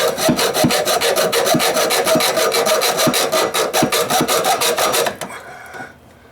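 A hacksaw cuts with fast, steady back-and-forth strokes during a hose spigot install, rasping loud and close for about five seconds before stopping.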